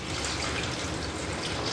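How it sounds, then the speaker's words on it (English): A steady, continuous stream of water pours into a dish of garden beets, close and even with no break, as a small amount is added before cooking. "First thing you do is you put a little bit of water in it."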